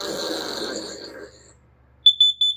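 A Kidde KN-COSM-IBCA smoke alarm under test starts with a recorded voice announcement, then gives short, piercing, high-pitched beeps in a quick pulsing pattern, loud and close indoors.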